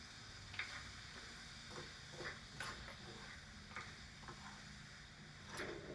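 Shrimp with cayenne pepper seasoning cooks together in a pan, giving a soft, steady sizzle with occasional stirring scrapes and clicks, fairly faint and with no talk.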